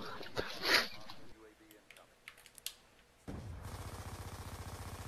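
Light machine gun fire in a video game: a few scattered shots, then a sustained, evenly paced burst of rapid automatic fire that runs to the end, fairly close and loud.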